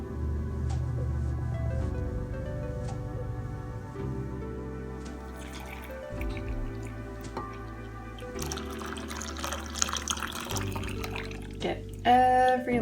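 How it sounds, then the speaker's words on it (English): Iced coffee from a French press being pressed and poured into a bowl of sweetened condensed milk, a trickling liquid stream with drips under a musical background, ending in a few louder splashes. "Time to press and pour."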